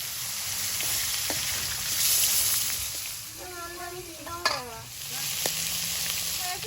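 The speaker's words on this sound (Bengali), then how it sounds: "আর তেলে সামান্য একটু নুন দিয়ে দেবো মাছগুলো ভেজে নেব" Fish frying in oil with a little salt for Bengali fish kalia, a steady sizzle with occasional stirring and utensil clinks, fairly close, while a voice talks quietly over it.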